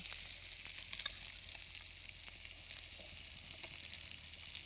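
Fish pieces shallow fry in a pan over a wood stove, a soft continuous sizzle and crackle heard up close and fairly quiet, with occasional small pops and no talk.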